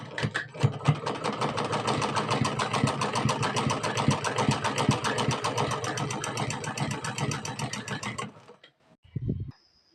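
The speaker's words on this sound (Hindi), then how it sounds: "और अब हम यहाँ से सिलाई मार देंगे।" A sewing machine stitches the sleeve seam of a simple suit, running in a fast steady loud mechanical rhythm for about eight seconds before stopping, followed by a short thump and a faint high whine.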